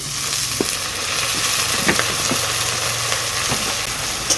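Water splashed into a pan of frying ground spices, cumin powder among them, for chana masala: a steady, close sizzle and hiss with a few sharp clicks of a spoon against the pan, and no voices.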